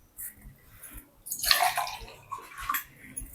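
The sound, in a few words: water being poured for drinking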